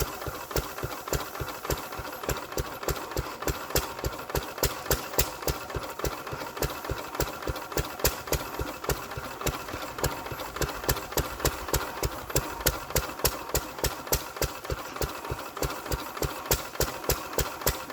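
A 1931 Petter 1.5 horsepower stationary engine runs steadily, with a rapid, regular firing beat that stays loud and close and keeps an even rhythm throughout.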